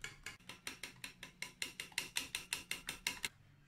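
Eggs for chocolate cake batter beaten by hand in a bowl, a brisk, even series of about fifteen sharp clinking strokes, close and alone.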